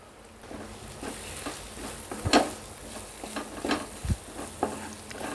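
Turmeric, red chilli powder, coriander powder and garam masala stirred in a sizzling pan for gongura pulao, with soft continuous frying and intermittent spoon scrapes and knocks against the pan.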